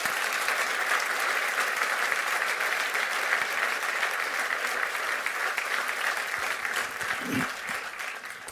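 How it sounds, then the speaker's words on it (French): An audience at a New Year's wishes ceremony applauds, dense sustained clapping from many hands that fills the room evenly throughout, tapering only slightly near the end. "sous vos applaudissements."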